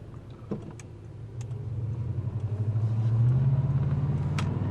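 A 1984 Monte Carlo SS with a stock 305 V8 and Rochester four-barrel drives along, its low engine rumble building steadily as it accelerates, heard from inside the car.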